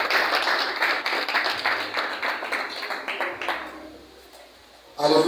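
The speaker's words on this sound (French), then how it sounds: "round of applause for the Lord." A church congregation at SCOAN in Douala claps and applauds together, a dense patter of many hands that fades after a few seconds before a loud new burst at the end.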